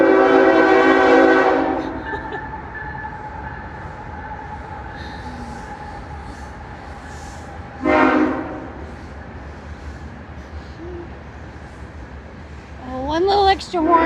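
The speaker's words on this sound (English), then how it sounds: "And here comes the train. Here's the train. You can hear it. It's loud." Train passing near Viento State Park in the Columbia River Gorge, sounding loud blasts of its horn: a long blast at the start, a second near the middle and a final burst at the end, over a steady rumble of rolling cars.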